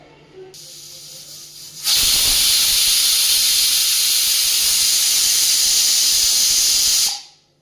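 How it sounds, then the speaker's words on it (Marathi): A pressure cooker on medium flame letting out a loud, sustained blast of hissing steam for about five seconds while cooking mixed vegetable pulao, close and overpowering before cutting off abruptly. "कुकरच्या साधारण दोन ते तीन शिट्ट्या मीडियम आचेवरती काढून घेऊयात"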